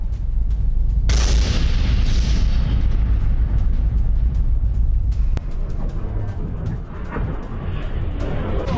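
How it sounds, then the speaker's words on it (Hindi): GMLRS missile strike destroying a bridge, a deep continuous rumbling roar with a sudden loud burst near the start and heavy low-frequency booming throughout. "GMLRS मिसाइल हमले में यह पुल तबाह किया गया।"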